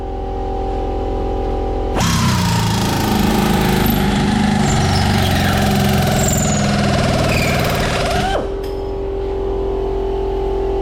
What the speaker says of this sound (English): the air compressor wasn't keeping up that great, but it cut right through it